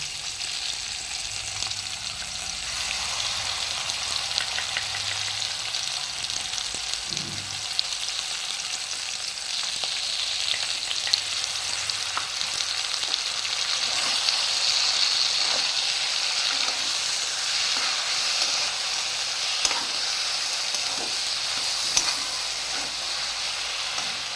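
Ground spice paste sizzles in hot oil for a potato and drumstick curry, a loud, continuous frying hiss that holds steady throughout with faint scattered clicks.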